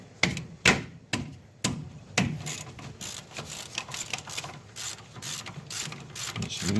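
A ratchet wrench loosening the brake caliper bolts on a 1990s Chevy/GMC truck front axle, clicking loudly and close in quick repeated bursts of sharp pawl ticks, with no voice.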